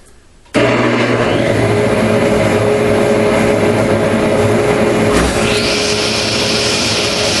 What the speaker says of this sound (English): I got a dust collector.